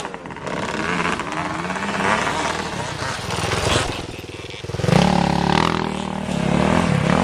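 Motorcycles race at a charity toy run event, engines revving and roaring loudly with rising pitch sweeps and some clattering, a crowd and talk blended in throughout.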